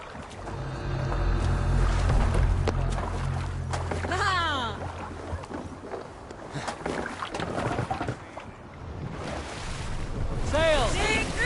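Wind and waves wash around a sailing ship in Assassin's Creed Valhalla, with low creaking hull rumble, rushing water and gusts, while voices speak at moments over the sea noise.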